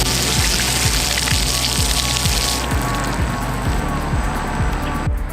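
A Gotway MSuper V3S+ electric unicycle rolls through a shallow puddle, a steady wet hiss and spray of water with repeated low thumps, fading slightly toward the end.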